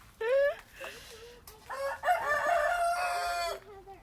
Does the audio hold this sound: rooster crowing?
yes